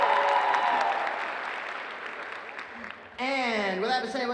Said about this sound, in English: Our ALCO translator, everybody, a round of applause for her and the fine work she's doing.